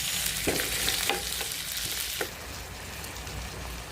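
Potatoes fry in a pan for tortilla de patata, giving a loud, constant sizzle with a few scraping stirs in the first couple of seconds, then steady crackling alone.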